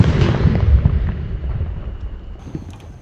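A Thunder Jumbo firecracker set off inside the ground gives a loud, muffled boom that fades into a rumbling decay, followed by a faint high whine near the end.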